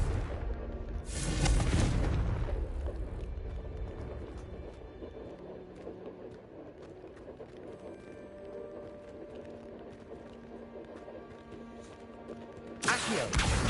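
Confringo blasting spell cast in the video game Hogwarts Legacy: a loud, booming blast near the start, steady game ambience after it, and a second sharp burst at the very end.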